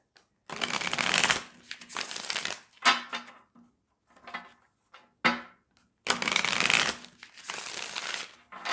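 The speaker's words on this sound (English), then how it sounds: "One more shuffle." Tarot cards are shuffled in several crisp bursts of riffling and flicking, close by, separated by short pauses with no talking.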